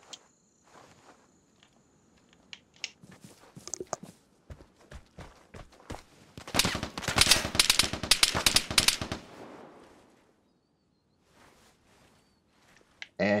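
Bursts of rapid machine-gun fire from a gunfight in the video game Vigor grow to a loud, dense stretch of shots, with scattered single shots and footsteps before and after.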